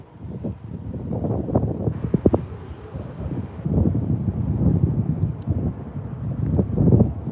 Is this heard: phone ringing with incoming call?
no